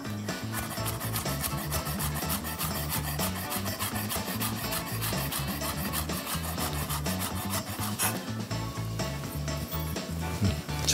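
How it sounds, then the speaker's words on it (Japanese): Knife slicing rolled ingredients thinly for Japanese-style octopus carpaccio, with rapid, even strokes against a cutting board that run continuously and sound close and fairly loud. "細く切っていきます"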